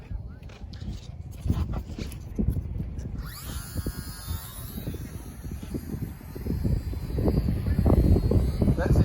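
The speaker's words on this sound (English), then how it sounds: "That's the wind right there." Wind rushing and buffeting past the microphone while a top race RC mini plane flies outdoors, a steady rough roar with a high motor whine entering partway through, a person talking over it.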